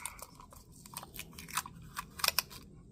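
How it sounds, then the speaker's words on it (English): Tape peels off hardened JB Weld in a series of dry crackling rips and snaps, sparse at first and then bunching into sharper, louder tears near the end, close and quiet. "We're going to remove our tape."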